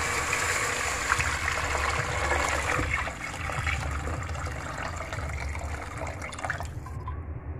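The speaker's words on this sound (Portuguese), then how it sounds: "vou colocar água agora, galera" Water poured into a cooking pot for a crab stew, a steady splashing stream close by that runs for several seconds before cutting off near the end.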